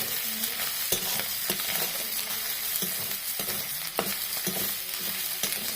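Dried loitta fish (lote shutki) fries in hot oil with a steady close sizzle, broken by scraping stir strokes of a spatula at irregular intervals; no voices.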